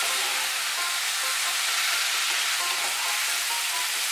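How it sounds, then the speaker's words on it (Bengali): Drumstick vegetable curry frying in a pan, a loud, dense, continuous sizzle close up with faint stirring and no talking. "এখন আমি একটু ভালো করে সবজিটা ভেজে নেব।"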